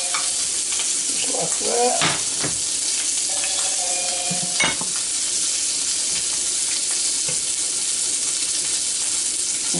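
An egg fries in a pan on the stove for a gas station style sandwich on Texas toast, with a steady loud sizzle throughout and a few scraping clinks of a utensil, while a voice briefly speaks.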